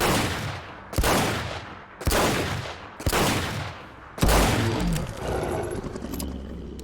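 Five heavy, booming shots from the Gauss version of the RSh-12 revolver in Fallout 4, fired about a second apart. Each blast rings out loudly with a long echoing tail.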